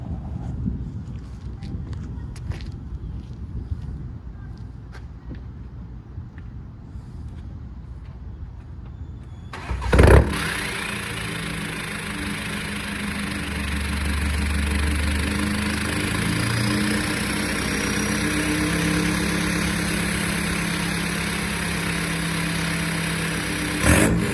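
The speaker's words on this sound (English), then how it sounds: "It's a straight pipe now. And I want you guys to hear the sound." A VW Golf TDI diesel with a straight-pipe exhaust and no muffler fires up about ten seconds in, then holds a loud, raspy, steady drone with slight swells of throttle close by.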